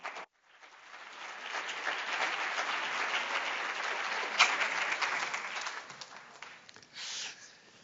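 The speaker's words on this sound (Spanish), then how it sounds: "damos, en primer lugar, un fuerte aplauso de bienvenida a César Valencoso," A conference audience welcomes a speaker with applause that swells from a quiet start into steady clapping, then tapers off near the end.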